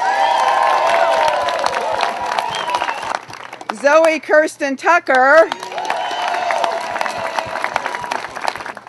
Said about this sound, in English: Ladies and gentlemen, a round of applause for Lenny Roberts,